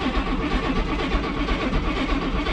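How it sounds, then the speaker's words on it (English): A 1966 Oldsmobile Toronado that sat unused for 11 years cranks over on its starter, a steady, loud, continuous churning with no catch, heard up close and alone. "Let's crank her."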